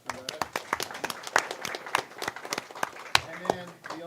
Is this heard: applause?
yes